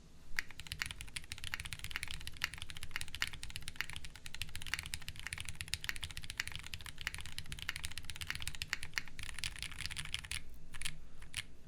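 Rapid mechanical typing on a Flame 60% keyboard with an aluminum plate and no foam, giving a dense, continuous clatter of crisp key clicks at moderate distance with no talk.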